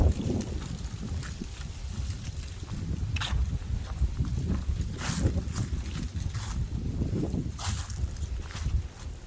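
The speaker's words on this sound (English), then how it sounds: "And I do apologize about the wind. It is super windy out" Heavy wind buffets the microphone outdoors beside a 4x4 bus with its hood open, a constant low rumble with gusty surges and occasional rustling; no voices.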